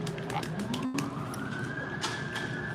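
A distant siren wails faintly, slowly rising in pitch beneath a busy background of murmuring and clatter.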